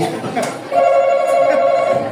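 An electronic game-show buzzer at a family Family Feud-style game rings like a telephone, a steady warbling tone that starts abruptly and continues loudly for over a second.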